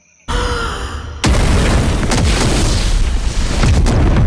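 A bomb blast explosion from the Toxic movie teaser hits in two stages: a sudden heavy boom, then a larger roaring blast that rumbles on loudly, with debris crackle and low thuds.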